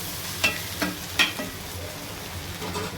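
Ivy gourd (tindora) fry cooks in a pan, giving a steady sizzle broken by a few sharp scrapes and knocks as a utensil stirs it.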